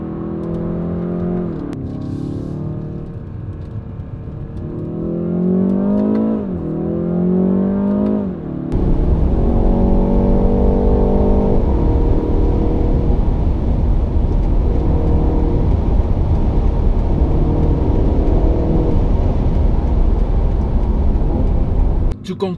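A 2020 BMW 330i M Sport engine revs up through rising gears with repeated climbing whines, then settles into a loud, steady roar of driving at speed.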